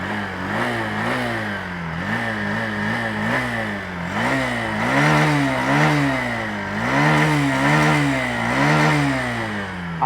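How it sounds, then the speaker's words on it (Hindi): Hero Splendor motorcycle running on E85 flex fuel, engine idling then revving repeatedly as the throttle is opened, a loud close exhaust note rising and falling in several surges. "थ्रॉटल देता हूँ।"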